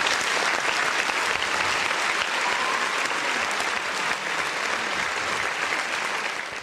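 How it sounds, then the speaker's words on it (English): Steady, dense applause from an audience, continuous clapping at an even level throughout with no break, tapering slightly at the very end. "One more round of applause."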